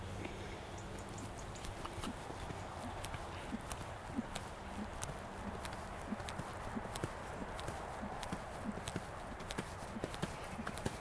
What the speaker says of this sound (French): Moi j'aime bien les détendre au galop, plus que le trot.